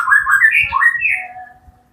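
A white-rumped shama, the murai batu songbird, sings a loud, close run of bright whistled notes, sliding and warbling for under two seconds before trailing off.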